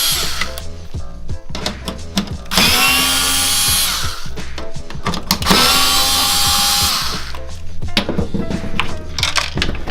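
Power tool undoing screws on an Audi A5 B8.5 headlight trim, several short bursts of whirring drilling separated by pauses, close and loud, with no talking.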